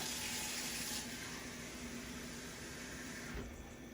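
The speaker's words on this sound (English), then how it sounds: "Let me get me a little water." A kitchen tap runs in a steady, close hiss of flowing water while oxtails cook, continuous for several seconds with no talking.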